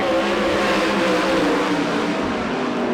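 Loud, continuous roar of a field of ASCS Southwest Region winged sprint cars racing in a heat at Arizona Speedway, a dense engine drone with no pauses and no talk.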